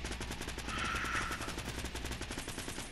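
Rapid automatic gunfire from the Fortnite video game, dense bursts of shots over a steady mechanical din, loud and close throughout with no talk.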